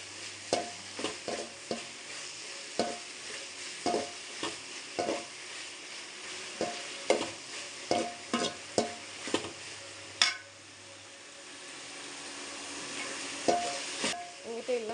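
Coriander leaves sauté in a pan for chutney: a steady soft sizzle under repeated clinks and scrapes of a spoon stirring against the metal, quickening near the end.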